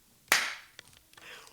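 A single sharp hand clap by someone, close and loud, with a quick decay into a quiet room; faint small noises follow.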